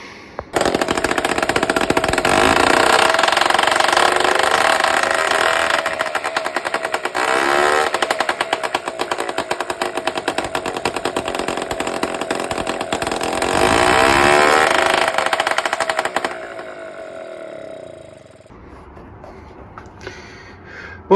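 A small two-stroke moped engine, a cyclo being rebuilt in a workshop, runs loud and close with a rapid, buzzing rattle for about sixteen seconds before dropping to a quieter idle and cutting out.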